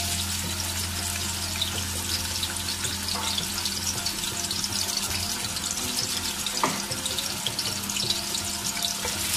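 Tomatoes sizzling in a cup of oil heated over a high flame for a mixed vegetable sabzi, a loud, steady, dense crackle that holds without a break and carries no voices.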